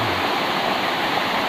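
A forest waterfall in Tambunan roars as a steady, dense rush of falling water, close and loud for a brief moment, with no voices.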